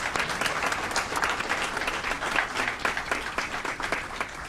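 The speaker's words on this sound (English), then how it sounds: "Let's give them a round of applause" A round of applause at a city committee of the whole meeting in Aurora, steady dense clapping from the room that carries on evenly throughout.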